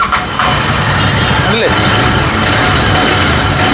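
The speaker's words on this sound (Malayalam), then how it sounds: "ഇന്ന് റോയൽ എൻഫീൽഡ് GT 650 നമുക്കൊന്ന് സ്റ്റാർട്ട് ചെയ്ത് നോക്കാം" A Royal Enfield GT650 twin-cylinder motorcycle idles nearby with a steady, loud engine rumble throughout, while someone speaks briefly over it.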